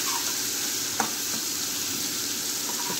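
Ground spices, including kasuri methi and coriander powder, are stirred into a potato curry in a frying pan over a steady soft sizzle, with one light scrape of the spoon.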